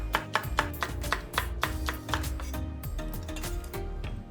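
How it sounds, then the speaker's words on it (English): A knife slices a chili pepper on a cutting board with a quick, steady run of crisp chops, about a dozen close taps in a few seconds. Soft background music plays underneath, with no talking. "If you have a chili pepper, slice 1."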